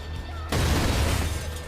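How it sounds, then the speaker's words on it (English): A sudden explosion in the video game Far Cry 5 bursts out loud and near, its broad crash decaying into a rumbling, crackling tail. "Oh, free, random explosion again."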